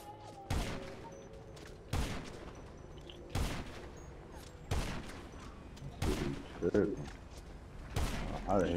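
Gunfire in GTA 5 Online: separate loud shots spaced about a second or more apart, each with a short echoing tail, over a low game background.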